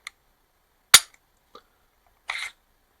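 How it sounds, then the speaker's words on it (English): Smith & Wesson M&P 2.0 full-size pistol during disassembly, a sharp close metallic snap as the trigger is pulled, followed by a faint tick and a brief rattling slide of metal parts in a quiet room. "Pull the trigger."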